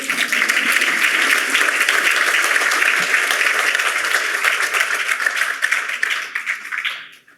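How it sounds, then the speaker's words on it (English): Audience applause at a community policing panel event in Chicago, a dense, steady wash of many hands clapping at close range that carries on for several seconds before tapering off at the end. "You guys can applaud for him."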